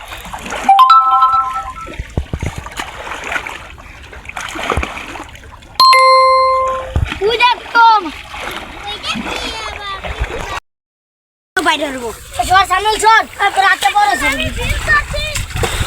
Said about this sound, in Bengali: আসলে সে ডুব দিয়েছে